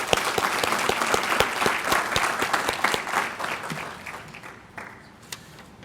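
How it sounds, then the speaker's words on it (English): Audience applause at a graduation ceremony: a sustained burst of many hands clapping that gradually thins and fades toward the end, with no voices over it. "Please join me in giving these folks a round of applause as well."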